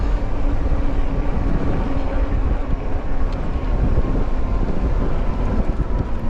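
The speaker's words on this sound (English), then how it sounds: "It's just so much wind today too, guys." Strong wind blows outdoors, a loud, constant roar buffeting the microphone without letup.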